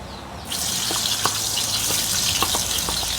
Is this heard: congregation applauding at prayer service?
no